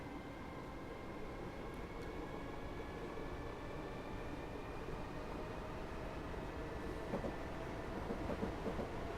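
Class 313 electric multiple unit in a train-simulator game running at speed between stations, a steady loud rumble and roar of wheels on rail with faint high electric whine tones throughout.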